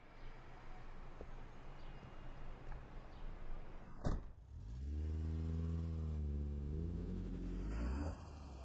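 A car door bangs shut once midway, followed by a steady engine hum starting up inside the car, over a continuous background wash.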